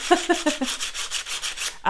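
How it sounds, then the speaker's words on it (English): Quick back-and-forth rasping strokes sanding down the metal base of an enamel pin, about ten in a row, close and steady with a slight rhythmic scratch. "you could probably sand away you know, a decent amount of the base"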